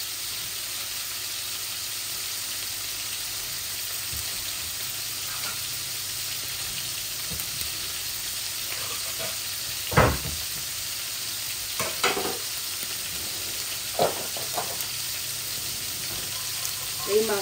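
Cumin seeds and a dried red chili sizzle in hot oil as a tempering for a tilapia and potato dish. A steady, hissing fry continues throughout, with occasional stirring knocks and faint pops.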